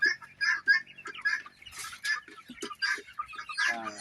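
Chickens cluck repeatedly in short, bright bursts at close range on a poultry farm, with a few overlapping calls and no speech.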